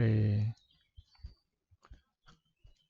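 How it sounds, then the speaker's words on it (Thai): A computer mouse clicks on an OK button: a few faint, soft clicks close by after a brief spoken word, spaced irregularly over a quiet background. "ก็คลิกที่โอเค"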